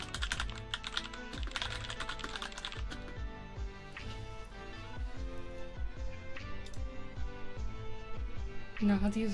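Rapid keystrokes on a computer keyboard during a typing test, bursts of close clicking with a short lull, while a voice talks softly over parts of it.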